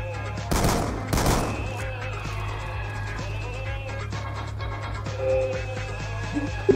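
Two loud, close gunshot bursts from Call of Duty: Black Ops 2 multiplayer crack out in the first second, followed by quieter distant shots and game noise under a steady hum.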